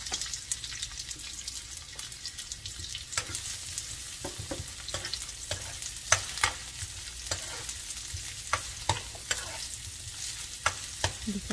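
Onion frying and being stirred in a pan, a steady close sizzle broken by the repeated scrape and clack of a utensil, with no talking.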